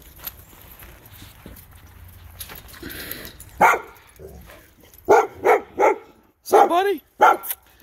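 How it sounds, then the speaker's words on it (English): A 14-week-old German Shepherd puppy gives a string of short, high, yappy barks, several close together near the end, with quieter shuffling and faint talk before them. "My German Shepherd's 14 weeks, just got his little voice going on."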